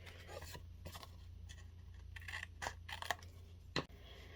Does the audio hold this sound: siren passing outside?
no